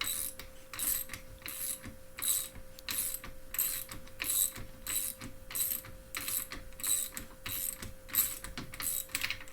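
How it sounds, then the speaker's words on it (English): A KTM WP dual-chamber fork cap being spun out ticks in a steady, rapid run of ratchet-like clicks as it comes off the end of its threads, close and clear with no talk. "you'll kind of hear it click off of the end of the threads"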